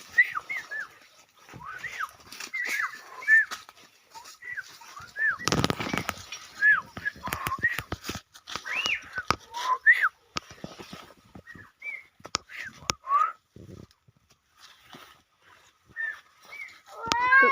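A child whistles short chirping notes over and over to imitate and call birds outdoors, with scattered clicks and knocks between the calls.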